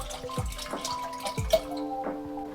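Chicken broth is poured into a small pan with a light liquid trickle and scattered drips and splashes, quiet and close, with no voices.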